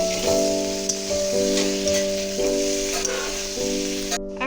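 Rui fish pieces frying with half a tomato and a green chili, a loud steady sizzle with a few stirring scrapes, heard under repeating tonal background music that cuts off at the end.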